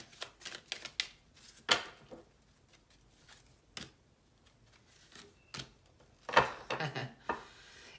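Tarot cards are shuffled and laid down in brisk, scattered bursts of crisp flicks and slaps. The quiet sounds are close and come alone, with short pauses between them.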